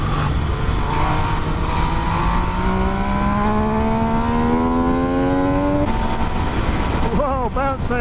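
A Triumph Street Triple RS or Yamaha MT-09 motorcycle engine rising steadily in pitch as it accelerates through the gears on a road ride, loud and continuous, with heavy wind rush throughout.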